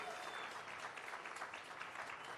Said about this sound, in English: massive, massive round of applause